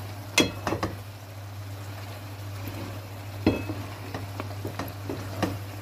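Chicken curry being stirred in a cooking pan, with a few sharp scraping clicks of a utensil against the pan over a steady low hum and faint sizzle, no talking.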